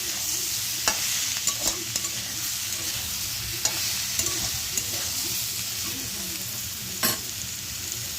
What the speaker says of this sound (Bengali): কড়াতে আমি সামান্য তেল আর একটু হলুদ দিয়ে কিন্তু সেদ্ধ করে রাখা এঁচড়গুলো কড়ার মধ্যে দিয়ে দিয়েছি